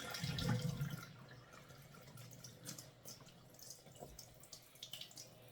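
Tap water runs and splashes in a sink as items are rinsed and handled, with soft irregular clatters and drips, fairly quiet.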